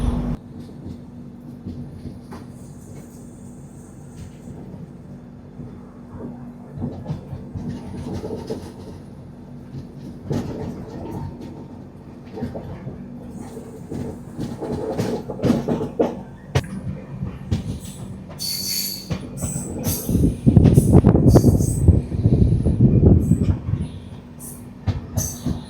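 The Mangalore–Rameswaram Express running on rails, a steady low rumble of wheels with rhythmic clickety-clack, rattling carriages and a brief high squeal, growing louder toward the end of the run.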